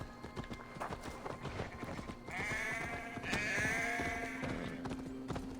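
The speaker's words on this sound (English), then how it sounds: "Let us get on our horse." Rhythmic clip-clop of horse hooves from Assassin's Creed Valhalla, a steady run of close, distinct hoof strikes repeating throughout, alongside game ambience and a sustained tonal layer in the second half.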